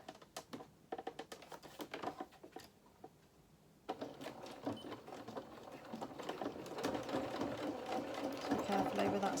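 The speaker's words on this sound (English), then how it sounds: "sew across the gap and reverse at the end again" A domestic sewing machine stitches across a gap in doll bloomers fabric, starting with a few stop-start bursts, pausing, then running in a steady close rattling whir that builds slightly while a voice talks over it.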